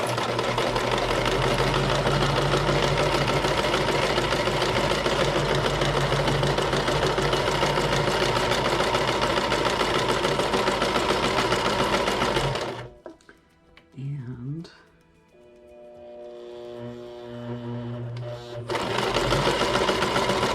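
A sewing machine runs in long loud continuous bursts while stitching a bigger stitch through handmade paper, pausing briefly midway with a few soft clicks and shifts before the steady motor whir resumes.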